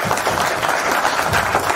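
An audience at a 25-year reunion of a 1995 tenth-class school batch breaks into a short burst of steady, dense group clapping.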